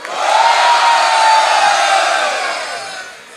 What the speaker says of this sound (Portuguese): Barulho e mão pro alto, Malagueta!